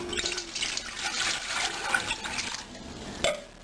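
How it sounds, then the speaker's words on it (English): Tap water runs and pours into a 4-cup measuring cup for a saltwater flush, a steady broadband splashing rush lasting throughout, close and moderately loud, with a small clink near the end. "I just fill a 4-cup measuring cup up with water"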